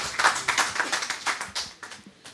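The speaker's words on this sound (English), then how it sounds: "Can we give the DG a round of applause?" A small audience at an evening talk claps for the director-general in sparse, separate bursts, moderately near, the claps thinning out and fading toward the end.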